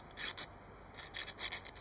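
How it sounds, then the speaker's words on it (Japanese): Sandpaper is rubbed on a piston ring from a Yamaha YB-1 two-stroke scooter, giving faint, short, hissy strokes in an uneven back-and-forth rhythm, with no talk. "これも紙やすり当てます。"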